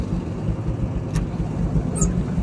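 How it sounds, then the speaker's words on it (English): A pickup truck hauling a giant pumpkin drives along the road with a steady, close engine and tire rumble and broad road noise throughout, with no talking. "Got the pumpkin truck ready to roll."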